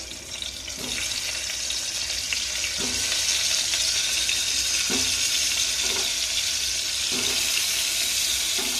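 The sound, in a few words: bitter gourds added to hot oil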